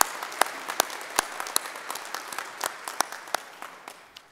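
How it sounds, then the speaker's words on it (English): An award presentation audience claps in a thin, sparse round, with a few distinct sharp nearby claps punctuating softer scattered clapping over about four seconds. "Let's give them a round of applause"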